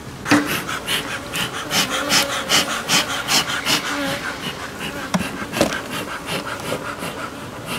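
Honey bees buzzing around a smoked hive at an apiary on Tetiaora, French Polynesia, a close, steady insect hum with scattered clicks and rustles throughout, no talking.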